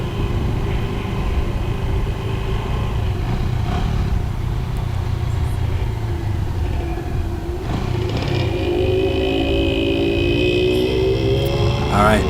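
A motorcycle rides through downtown Angeles City, Pampanga, Philippines, its engine droning steadily close up with wind rush, shifting pitch as it accelerates near the end.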